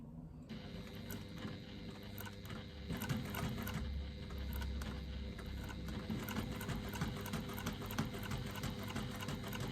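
A sewing machine top stitches a leather wallet's exterior panel, running in a steady, close, rapid mechanical chatter for several seconds without talk.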